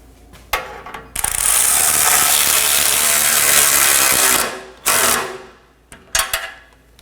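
A ratchet snugging down nuts on the underbody of a 2015-2023 Nissan Maxima 3.5L V6, a loud continuous clicking run lasting several seconds, followed by a couple of shorter bursts of ratcheting close by.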